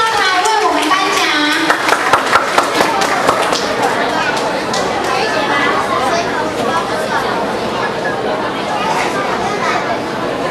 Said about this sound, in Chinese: 来，我们掌声欢迎陈典传师上台为我们颁奖。